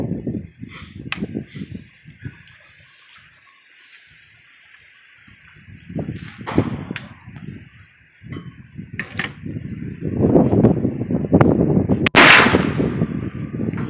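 Rifle shots fired at a bowling pin: a few sharp, loud cracks spaced several seconds apart, with people talking and moving around between and under them outdoors.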